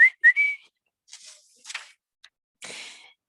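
A person whistles to imitate a cow while reading a picture book aloud: a couple of short rising whistle notes up close, followed by soft breathy noises and pauses.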